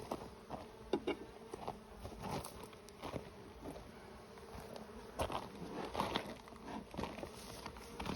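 Honey bees buzzing around the front of a hive during brood box work, a dense close hum with scattered crackles and soft knocks from handling the equipment, no voices.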